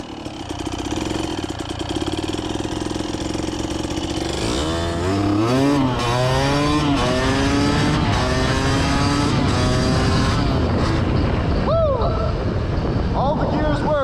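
1990 Kawasaki KDX200 two-stroke offroad motorcycle ridden up and down a street, its engine idling, then revving with rising and falling pitch through the gears, loud and close with a buzzy tone.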